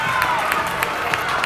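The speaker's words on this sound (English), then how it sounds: "Warriors parents excited to clap." Warriors parents applauding in a hockey rink after a championship game, a steady patter of many hands clapping with scattered sharper claps and a murmuring crowd beneath.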